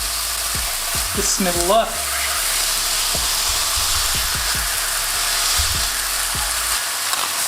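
Smashed meatball burger patties fry in a hot pan with a loud, steady sizzle, punctuated by sharp spatula taps and scrapes throughout; a voice speaks briefly near the start.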